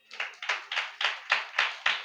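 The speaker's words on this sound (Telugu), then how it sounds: "చప్పట్ల కొట్టు." A church congregation at a Holy Communion service claps in unison, about eight sharp, evenly spaced claps in a steady rhythm with no talking.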